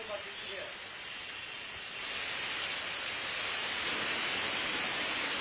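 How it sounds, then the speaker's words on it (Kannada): Heavy rain pours down in Bangalore as a steady broadband hiss that swells louder after a couple of seconds and stays dense and continuous. "ರಾಜ್ಯದ ರಾಜಧಾನಿಯಲ್ಲೂ ಕೂಡ ಅಷ್ಟೇ ಮಳೆ ಸುರಿತಾ ಇದೆ"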